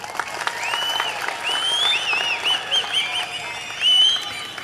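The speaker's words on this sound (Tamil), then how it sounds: "இதுக்கு இன்னும் பெரிய கைத்தட்டலை எதிர்பார்த்து" Audience applause at a public meeting in Trichy, a moderate burst of clapping that swells and fades unevenly, with high squealing feedback tones riding over it.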